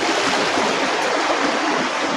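Steady river water rushing and flowing during a fishing trip on a Philippine river, a continuous broadband wash without pause, fairly close and moderately loud, with no voices.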